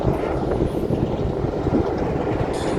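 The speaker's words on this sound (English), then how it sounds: "next to the North Yorkshire Moors Railway, which actually is just going past now." A North Yorkshire Moors Railway heritage train near Whitby passes, rumbling at a steady distance, a continuous low roar of engine and wheels filling the scene.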